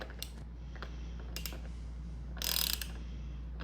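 A 24mm socket on a ratchet works loose the air cap of a RockShox double air spring fork, with faint clicking mechanical movement close by and a brief louder rasp of the ratchet near the end.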